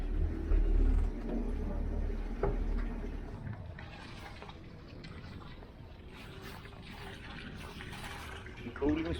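Cooling water from a sailboat's engine splashes and trickles steadily from the exhaust outlet on the Swedish coast, a continuous watery wash under a low engine rumble with light wind noise.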